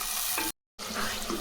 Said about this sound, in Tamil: நல்லா தக்காளி எல்லாம் வதக்குங்க